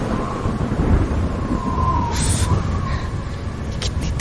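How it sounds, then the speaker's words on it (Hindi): Heavy rain pours in a steady wash while thunder rumbles low and continuous underneath, with a brief brighter burst of noise midway, loud and close. "ये तो तेज बारिश शुरू हो गई है"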